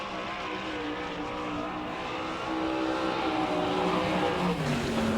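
Dirt-track sprint car from the All Stars series, car 29N, on its first lap at Wichita, Kansas, a continuous loud engine drone with rising and falling pitch as the car circles, no talk.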